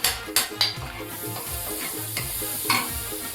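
Butter sizzles in a hot pan for pav bhaji, a steady frying hiss with a few sharp crackles and pops near the start and again later.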